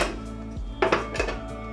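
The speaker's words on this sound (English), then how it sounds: "Gonna add ice to our shaking tin." Ice cubes drop into a metal cocktail shaking tin, making a few bright clinks and rattles in quick succession, close by.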